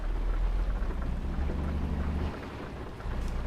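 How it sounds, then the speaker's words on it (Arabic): Steady rain falls along a road near Al-Qaim in Iraq, a continuous broadband hiss with a low rumble beneath it, loud and unbroken throughout. "صوت المطر"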